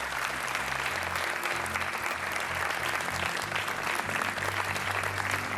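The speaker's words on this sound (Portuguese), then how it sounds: "Um aplauso para as duas." Studio audience applause at a Portuguese television game show, steady and full for about five seconds, with faint low tones from the show's background music underneath.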